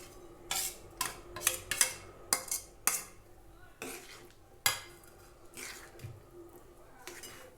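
A spoon stirs rava mixture into sugar syrup in a pan, making a series of sharp metallic clinks and scrapes that come in uneven bursts, then a softer, wetter stirring sound.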